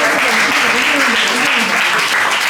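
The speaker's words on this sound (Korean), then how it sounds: "박수 한번 주세요." Applause from a church youth group at an awards ceremony for a scripture memorization contest, loud, steady clapping throughout with voices mixed in.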